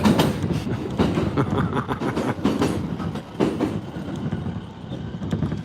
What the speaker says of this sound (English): So we're just pulling into Konosu Station here.